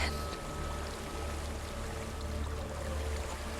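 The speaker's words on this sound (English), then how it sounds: "There's a waterfall." A steady rushing of water from a waterfall in the video game Hellblade: Senua's Sacrifice, a constant broadband wash holding at an even, moderate level throughout with no talk over it.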